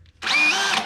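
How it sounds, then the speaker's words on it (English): A power drill bores a hole with no pilot hole, working on a car fuel system installation, one close, loud, steady whine lasting under a second after a brief quiet start. "I'll just drill a hole."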